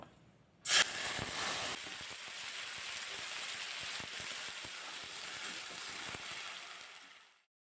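Ground onion and tomato paste hits hot tempering oil with cumin and a bay leaf, a sharp burst of spitting followed by a steady crackling sizzle that fades out at the end.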